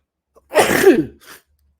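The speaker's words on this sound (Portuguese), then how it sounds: "E não consegui segurar aqui o espirro." One sudden, close, loud human sneeze with a short breathy tail and a faint after-sound, in an otherwise quiet room.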